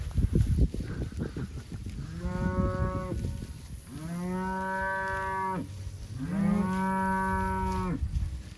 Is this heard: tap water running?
no